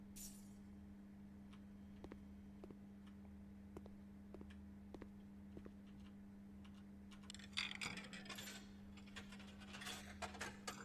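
A coin drops in the video game Blue Prince, giving a run of soft, evenly spaced metallic ticks followed by a brighter burst of clinking, all over a steady low hum.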